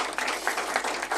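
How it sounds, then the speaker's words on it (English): Audience applause at the close of a panel discussion in Brussels, a steady broadband patter of many hands clapping throughout, moderately loud and with no talk over it. "Please give them a round of applause."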